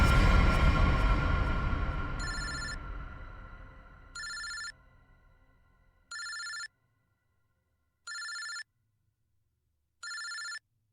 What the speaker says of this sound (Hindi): ये किसका फोन है?